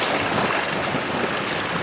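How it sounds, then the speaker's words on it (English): A Torqeedo 1003 electric outboard motor on a boat runs near full power at 900 watts, giving a steady, loud rushing whir blended with wind and water noise, with no voices. "If you don't mind the noise, pick yourself up a second-hand Torqeedo 1003."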